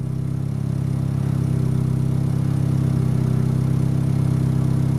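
Ford Ranger engine idling close by with a steady, low, throbbing rumble and a slightly uneven beat, running alone without voices.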